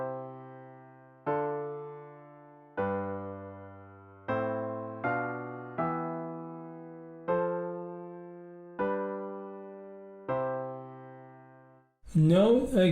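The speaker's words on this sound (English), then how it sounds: "Here is the sound of the progression that we have created." A chord progression that moves to the five chord and resolves to the one chord, played as a series of sustained piano-like chords struck one after another and left to decay, alone and fairly quiet, with speech starting right at the end.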